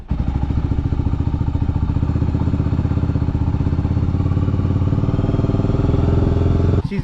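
A Honda GB500 single-cylinder motorcycle engine idles after being kick-started, its loud, steady rapid thumping close by, continuous and alone until it cuts off abruptly near the end.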